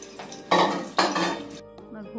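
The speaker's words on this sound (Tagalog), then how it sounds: "Habang wala pa, maghuhugas muna ako." Dishes being washed at a kitchen sink under running water while noodles wait to cook: two loud bursts of splashing and clattering crockery, then quieter rinsing and clinks.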